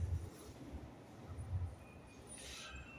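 A six-carriage electric train rolls into Edinburgh Park station with a low continuous rumble, a rising whine and a brief squeal of wheels, heard from the platform nearby.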